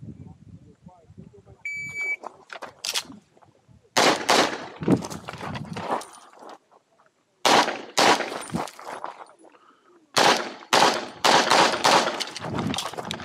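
Pistol gunshots ring out at an outdoor IDPA shooting stage, with sharp shots fired in quick strings separated by pauses, plus a beep timer at the start and voices around them.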